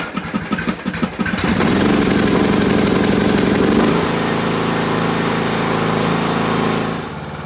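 A Craftsman T110 riding lawn mower with a 17.5-HP engine cranks briefly, catches and then runs at a loud, steady rumble close by, settling slightly lower near the end.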